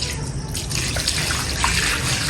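Water pouring steadily over wheat grain being washed for drying, a continuous splashing trickle close by with no talk.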